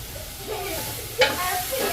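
Curry leaves, dried fish and onion fry in a clay pot, with a soft, steady sizzle, light stirring and a single sharp scrape or clink midway through the short clip.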